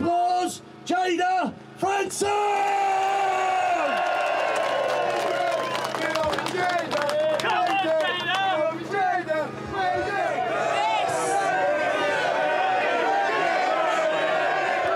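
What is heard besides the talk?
audience applause and cheering at rally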